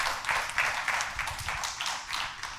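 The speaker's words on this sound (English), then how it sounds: "Round of applause for Mark, please." An audience applauds a speaker named Mark at a talk at MIT, a steady wash of many hands clapping, moderately loud and even, with no break over its short length.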